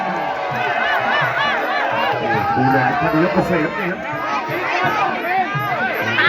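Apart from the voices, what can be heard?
crowd cheering at a Muay Thai fight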